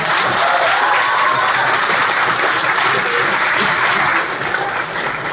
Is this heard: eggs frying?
no